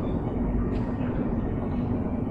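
Underground train in the Portal 2 game, a steady low rumbling drone held at an even level throughout, with a faint higher swell near the middle and no voices.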